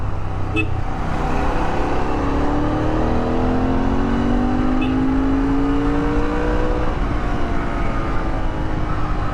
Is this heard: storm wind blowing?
no